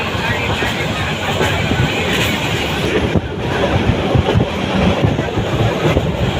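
A passenger train in Bangladesh rumbles along at speed, heard from its open doorway, its wheels clattering rhythmically over the rails with a loud, continuous roar close by.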